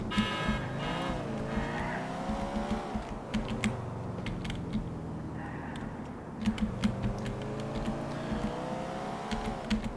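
In GTA 4, an in-game car engine revs and shifts pitch while braking into a sharp turn, joined by brief tire skids, with close keyboard typing clicking throughout.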